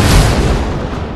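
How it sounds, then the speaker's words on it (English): Anti-aircraft fire bursts in the Shadow Strike video game, a loud deep boom with a rumbling decay over about a second, close and with no talking. "Watch out, taking fire."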